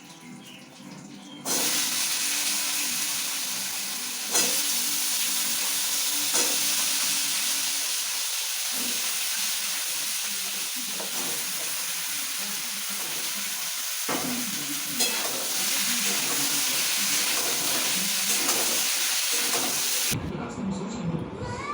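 Pumpkin sabzi sizzles in a pan with a tempering of dry red chillies, bay leaf and green chillies: a steady, close, broadband frying hiss lasting throughout, marked by occasional stirring knocks and a brief quieter stretch at the very end.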